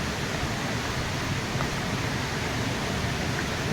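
Savatkada waterfall roars as a steady, even broadband rush heard from a distance, with no other sounds over it.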